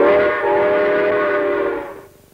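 A voice imitates a steam train whistle for a retro toy commercial, one sustained whistling hoot lasting about two seconds, loud and close before it cuts off.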